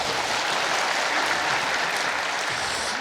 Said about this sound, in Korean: 신무영 형제 박수 한번 드리십시다